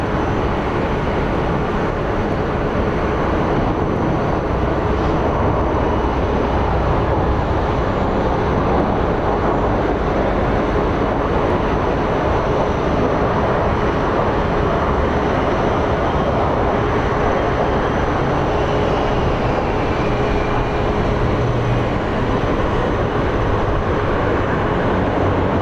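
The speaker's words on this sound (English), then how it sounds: "So here comes our American Airlines coming in from Cabo." An American Airlines airliner arrives at Phoenix Sky Harbor airport, a steady, loud broadband jet roar that holds constant throughout without a clear rise or fade.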